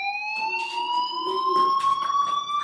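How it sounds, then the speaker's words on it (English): A school fire alarm in the video game Life Is Strange sounds as a loud, continuous high electronic tone with steady harmonics, held without a break, while other game sounds murmur faintly underneath. "Hey, do you hear that fire alarm?"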